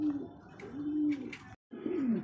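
A male Holikupar pigeon coos close by in low, drawn-out rolling calls, several in a row with a short break before a final coo, with faint background noise and no talk over it.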